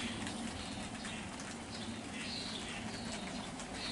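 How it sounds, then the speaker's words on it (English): Rain falls outdoors in a yard, a continuous soft hiss and patter that holds steady and fairly quiet throughout, with no voices. "The rain has started."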